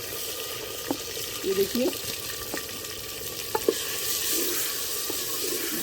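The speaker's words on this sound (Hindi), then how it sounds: "टमाटर डाल दिए हैं ऑयल में लहसुन अदरक करने के बाद" Tomatoes frying in oil after garlic and ginger in a chicken ginger handi, a steady soft sizzle under light stirring clinks, with a brief spoken remark.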